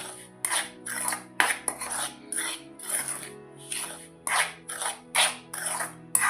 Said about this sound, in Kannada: ಹೀಗೆಲ್ಲ ಚೆಂದಾಗಿ ಮಿಕ್ಸ್ ಮಾಡ್ತೀವಿ